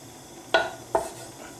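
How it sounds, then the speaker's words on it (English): Two quick metallic clinks land in a pan as a couple of bay leaves drop into hot oil for a Goan pork vindaloo, over a faint background hiss. "I put some oil now in a pan, and I'm just going to chuck a couple of bay leaves into the oil"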